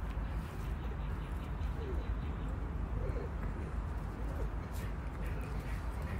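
Soft cooing of a pigeon or dove under a steady outdoor background hum, faint and somewhat distant, with a few low repeated coos spread across the stretch.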